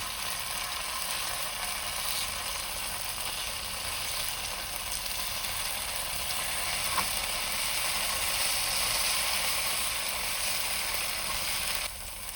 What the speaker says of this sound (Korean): 밑면이 노릇하게 구워졌으면 뒷면도 구워주세요.